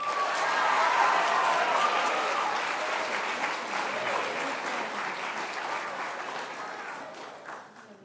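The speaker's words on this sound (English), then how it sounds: "let's give them another round of applause" Sustained applause from an audience at a high school awards ceremony, loud at the start and slowly tapering off over several seconds, with some crowd murmur mixed in.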